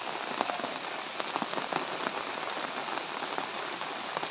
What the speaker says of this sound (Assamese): বতৰৰ অৱস্থা কি, বৰষুণ পৰি আছে।